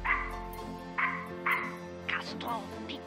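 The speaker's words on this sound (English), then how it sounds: "that sounds like that's a dog" A dog barks and yips a few times in a Gabriel Knight: Sins of the Father adventure game, short sharp calls over a steady background tone, with a voice briefly heard.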